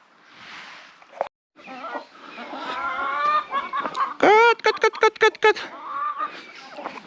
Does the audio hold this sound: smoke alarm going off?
no